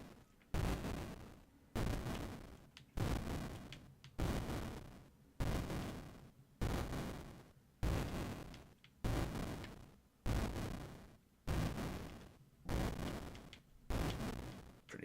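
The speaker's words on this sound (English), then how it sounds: "now we have the Lake of Fire with the flaming meteor things" Flaming meteors blast over the Lake of Fire in the Dragon Spirit game, giving a regular series of about nine booming explosions roughly every 1.7 seconds, each a sudden loud burst that decays into a rumbling tail, no voices.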